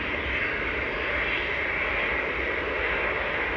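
A jet airliner departs Manchester Airport bound for Antalya, its engines giving a steady, broad roar that holds without let-up at moderate distance, with no voices over it.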